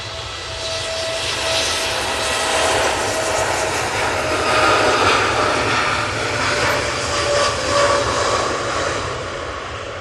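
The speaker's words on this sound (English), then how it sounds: "That TUI Dreamliner" TUI Boeing Dreamliner jet at Manchester Airport, a loud steady engine roar swelling and rumbling across the whole stretch, with a sustained whine above the broad low rumble.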